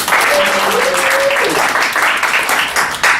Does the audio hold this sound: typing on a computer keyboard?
no